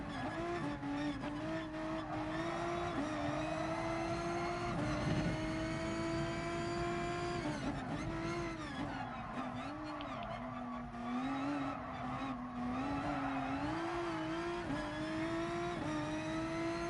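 Race car engine howls loud and steady through a video game race in Gran Turismo Sport, an AMG being driven, its pitch rising and falling with each gear change and corner, with occasional tire squeal.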